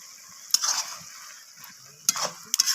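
Shredded cabbage cooking with sugar in a pan for a Kashmiri cabbage ghonto, stirred in a few quick scraping bursts with metallic clicks, separated by quiet pauses, close by.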